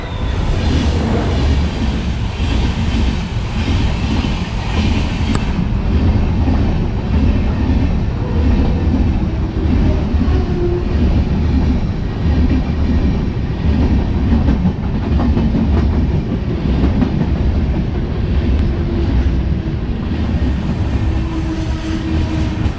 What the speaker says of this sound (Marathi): तर आता जी ट्रेन पास झाली ना ती तिरुवनंतपुरम लोकमान्य